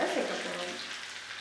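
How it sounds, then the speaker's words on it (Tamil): Oil sizzles steadily in a pan while a tempering of spices, finished with ginger-garlic paste, fries for a goat intestine curry; a continuous close hiss with no talk over it. "நல்லா எண்ணெயில் வாசனை வர வரைக்கும் ஃப்ரை பண்ணிவிட்டு இந்த தாளிப்பை குடல் குழம்போட சேர்க்க போகிறோம்."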